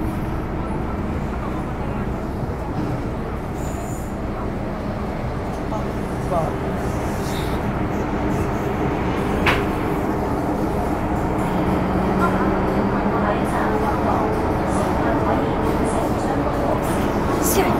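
Ride aboard a Hong Kong MTR subway train heading toward North Point, with a continuous low rumble and rolling rail noise, occasional squeals and clunks, and speech over it.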